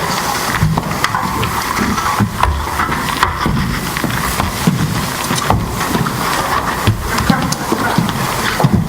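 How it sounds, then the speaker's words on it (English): Horse hoofbeat sound effect for a live stage radio play of the Lone Ranger, a steady galloping clip-clop running continuously and loudly through the whole stretch amid busy background noise. "From out of the past come the thundering hoofbeats of the great horse Silver."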